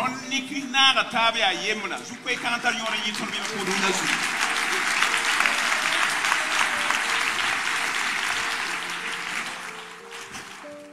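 A church congregation applauds at length, a dense steady clapping that swells and then gradually fades, with a voice speaking briefly at the start.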